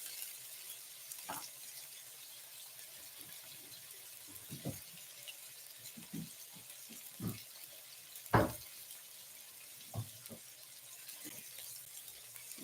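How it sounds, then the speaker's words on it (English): Lamb chops crackle and sizzle quietly in a hot pan, with scattered pops and spits over a steady hiss. "Listen to that sizzle."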